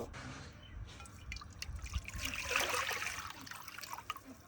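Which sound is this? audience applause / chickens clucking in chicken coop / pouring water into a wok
pouring water into a wok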